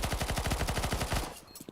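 A rapid burst of automatic gunfire from the Counter-Strike video game rattles out in a fast, even string of loud shots for just over a second, then cuts off.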